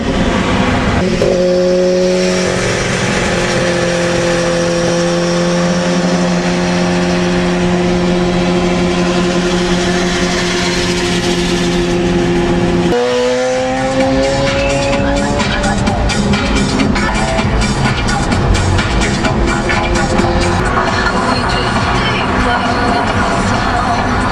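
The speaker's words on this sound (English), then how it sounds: "I'm gonna wreck my car." A car engine at a racing event revs hard with a steady droning pitch that drops and then climbs again, loud and close, with crowd noise and raised voices mixed in.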